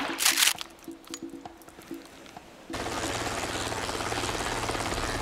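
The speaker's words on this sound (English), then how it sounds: "Is that some kind of cool new stealth chopper?" A helicopter is heard after a short stretch of scattered clatter and bursts of noise. Its loud, steady rotor roar comes in abruptly and continues to the end.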